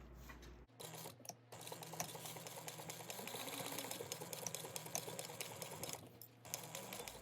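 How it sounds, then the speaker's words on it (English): A sewing machine stitching a half-inch seam joining a bag's side to its exterior gusset, a steady whirring hum with fine rapid ticking, running continuously after a brief pause near the start, fairly quiet and close. "we're going to sew this at a 1/2 inch seam allowance"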